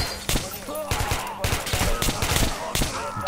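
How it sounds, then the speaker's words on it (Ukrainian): Gunfire from a prone enemy in the video game Metro: Last Light, a loud, close burst of rapid shots with uneven sharp cracks repeating across the few seconds. "Диви-диви, ще лежить і стріляє."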